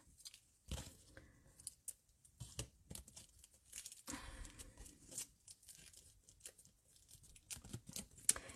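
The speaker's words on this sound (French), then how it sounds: "On va découper ce qui dépasse parce que ça va nous gêner" Scissors snipping off the excess edge of paper or ribbon on a handmade chocolate-bar card, a series of quiet close crisp cuts and crinkles at irregular intervals.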